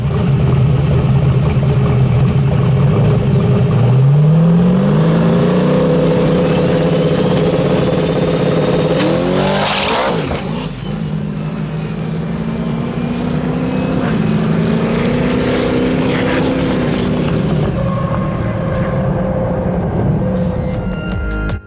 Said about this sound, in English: it sounds like the tire shake destroyed the rear end. It's making a bunch of noise.